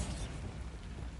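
Bombarda blasting spell detonating in Hogwarts Legacy: a brief, muffled explosive burst with low rumble and crackle, moderately quiet and without voices.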